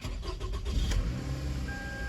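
A Toyota Camry engine cranks and catches after an exhaust leak repair, then settles into a steady, close idle hum with no talking.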